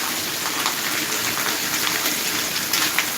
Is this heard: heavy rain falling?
yes